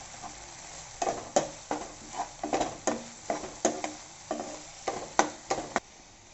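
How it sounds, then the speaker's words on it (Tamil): Tomatoes sautéing in a pan for capsicum paneer curry, a soft steady sizzle broken by repeated close scraping stirs in an uneven rhythm, no talking. "இப்போ பார்த்திங்கன்னா தக்காளி நல்லா வதங்கிட்டே இருக்குது."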